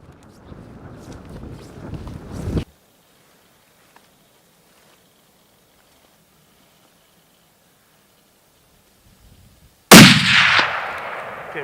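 A single loud rifle shot cracks out during a spring brown bear hunt in snowy Alaska, with a sharp onset and a decaying rumble. Brief wind and movement noise precede it, with a quiet lull in between.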